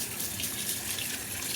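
Water runs steadily from a tap into a sink during washing, a continuous close splashing rush with no voices.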